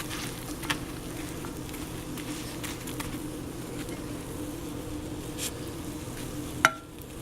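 A grilled cheese sandwich fries in melted butter, giving a faint, steady, even sizzle with a small click near the end.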